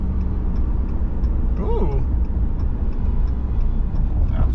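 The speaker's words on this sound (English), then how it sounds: "I'm hitting 8 o'clock traffic." Road traffic rumbles steadily around a roll-off dumpster truck cab in morning traffic, a continuous low engine drone with a brief rising whine midway and a voice making a short exclamation.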